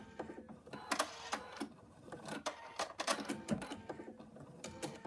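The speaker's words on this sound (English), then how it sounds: "The machine has stitched the outline" Embroidery machine stitching the first colour outline on hooped fabric for a monkey toy design, giving a quiet run of uneven mechanical clicks and taps with a faint whir underneath.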